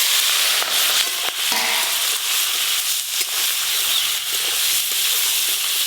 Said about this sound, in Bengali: কাঁকড়াগুলো লাল লাল করে ভেজে নেব।